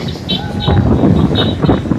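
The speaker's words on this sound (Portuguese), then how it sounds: "lá vem o vento de novo" Wind gusts rumble into the microphone outdoors on a sandy walk toward a fort, loud and close, with the roar building midway and a few faint vocal sounds under it.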